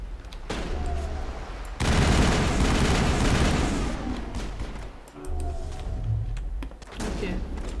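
Video game gunfire from Mass Effect rattles in dense, sustained bursts and heavy thuds, loud and close, with a voice speaking amid the shooting.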